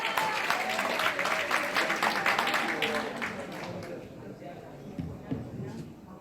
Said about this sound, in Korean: 큰 박수로 다시 한번 환영해 주시기 바랍니다